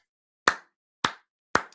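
Three single hand claps ring out slowly and evenly, each one sharp and isolated against silence, as a speaker at a football press conference gives a sarcastic clap.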